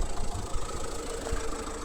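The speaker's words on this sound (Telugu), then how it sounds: "ఇంజన్ సౌండ్ కూడా స్మూత్ ఉంది." A 2021 Tata Safari XT+ diesel engine idles with a low, even rumble and a faint mechanical rattle, heard quietly and steadily with no talk.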